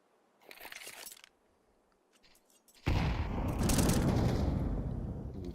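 A grenade goes off in a Counter-Strike pro match: after a short burst of clatter, a loud, sudden blast rises and rolls out into a long, noisy decay lasting several seconds.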